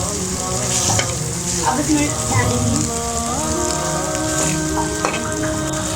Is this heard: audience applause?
no